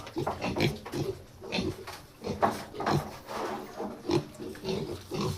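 Fat piglets in a pig pen oink and grunt continuously, overlapping short snorts in an irregular rhythm at close range, fairly loud with no talk over them.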